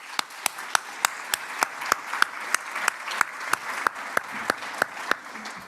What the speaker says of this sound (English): I would like to maybe ask for a round of applause for our speakers first